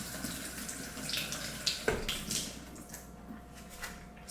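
Kiwi fruit rinsed under a running kitchen tap, a steady rushing water flow with splashes and a brief louder splatter midway, close and continuous, no talking.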